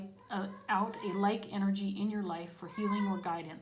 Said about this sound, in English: Sorry about the cat noise.